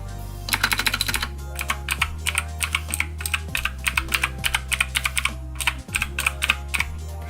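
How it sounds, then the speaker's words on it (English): Mechanical keyboard keys clack in quick, uneven bursts of typing, close and crisp, with short pauses between runs of keystrokes over a low steady hum. "It's just the noise of the clack sound for the keys."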